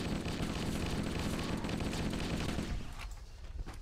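Sustained automatic gunfire from a Halo video game weapon, a dense, continuous rattle of shots for nearly three seconds before cutting off to a quieter tail.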